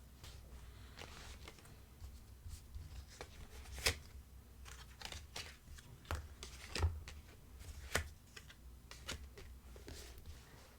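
Tarot cards being shuffled and drawn for an advice reading, heard as soft, quiet riffling and scattered light taps and flicks of card stock throughout, with no voice over them.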